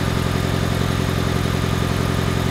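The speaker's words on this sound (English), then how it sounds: "A simple test is just to take it off like it is now and start the engine cold." Steady, rhythmic cold car engine idle with a low, even pulsing chug and constant whirring, close and unchanging throughout.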